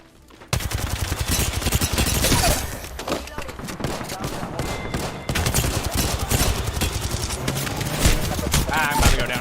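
Heavy gunfire in a video game: dense bursts of rapid shots crackle almost continuously after a quiet start, loud and close, with a voice talking through parts of it.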